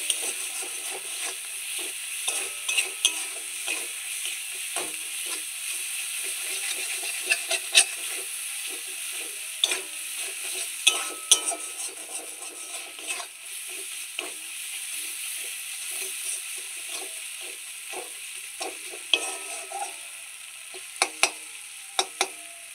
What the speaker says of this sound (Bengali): তো এখন মশলাটা আমি ভালো করে কষিয়ে নেব।